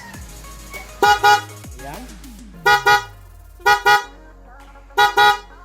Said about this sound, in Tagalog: Okay, so yun yung tunog ng uh, Bosch na Evolution.